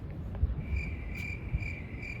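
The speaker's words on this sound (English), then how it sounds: "There's the crickets." Crickets chirping as a sound effect, a steady high trill that runs throughout at moderate level over low background rumble, with no one talking.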